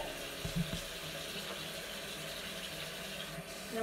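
A tap runs steadily into a sink while a cat is rinsed, a continuous soft splashing stream with a few faint knocks near the start.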